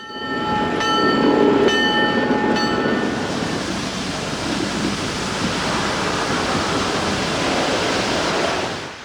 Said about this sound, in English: At North Vancouver, a load of timber arrives on the British Columbia Railway.